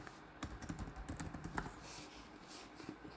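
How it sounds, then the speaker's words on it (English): Typing a password on a computer keyboard, a quick run of close, crisp key clicks over about three seconds with no talking. "So I am entering my password."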